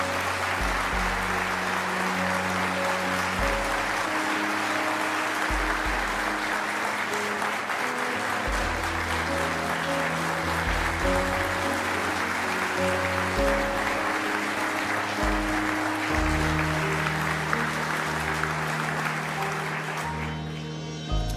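Steady applause from a large crowd, dense and continuous for about twenty seconds, with background music underneath and no talking.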